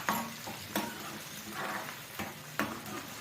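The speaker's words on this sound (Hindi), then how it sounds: "तो ये है जी मेरा साग का जो तड़का है, ये मैं ऐसे लगाती हूँ।" Saag tadka sizzling and frying in a pan, a steady soft hiss broken by several sharp stirring clinks of a utensil against the pan, close and fairly quiet, no talk.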